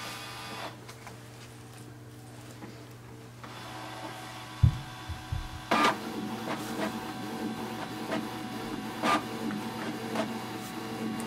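A Canon TR4550 all-in-one printer copies a page, starting with a low motor hum, then a sharp mechanical clunk and a run of rhythmic whirring, ticking and paper-feed rattles, close and steady with no talk.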